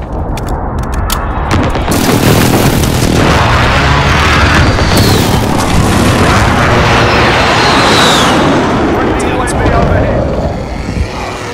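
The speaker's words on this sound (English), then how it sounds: "Precision airstrike! Take cover!" A precision airstrike in Call of Duty: Modern Warfare online multiplayer, with roaring jet aircraft passes and heavy rumbling explosions, loud and continuous, along with gunfire and voice callouts.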